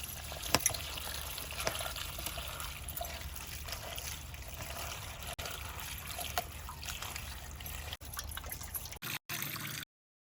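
Chopped vegetables (carrots, onions, peas, flat beans) rinsed under a steady trickle of running water, a continuous close splashing and dribbling that lasts throughout before cutting off near the end.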